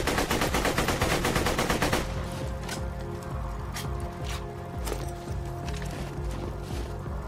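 Rapid automatic gunfire in Borderlands 2 rattles loudly for a couple of seconds, then sporadic single shots pop over a steady rumbling game soundscape.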